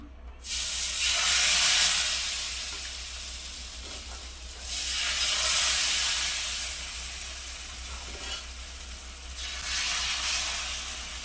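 Rava dosa batter poured onto a hot pan gives three loud, bright sizzling surges, each swelling and then easing back. No voices.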